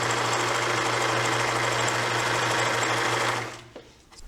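A sewing machine runs continuously while stitching a seam in fabric, a close, steady buzzing hum with rapid needle rhythm that stops abruptly near the end.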